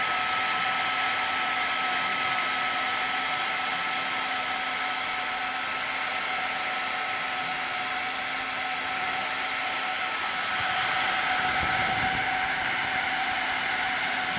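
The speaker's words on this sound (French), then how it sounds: "à cause du jet d'air chaud qui maintient la pièce arrière chaude" A hot air tool for plastic repair blows a steady, loud, continuous whooshing hiss with a faint whine, unbroken throughout as the hot air melts plastic.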